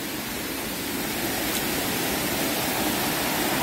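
Tat Sae waterfall near Luang Prabang, Laos, a low, broad cascade of running water, gives a steady, even rush of water noise throughout, with no voices.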